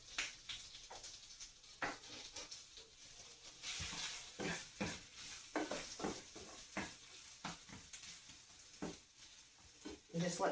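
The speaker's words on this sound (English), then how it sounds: "So I've got them here sauteing." Onion, green onion and tomatoes sautéing in a pan for an omelette, with rhythmic spatula scrapes and taps over a light sizzle, fairly quiet and close.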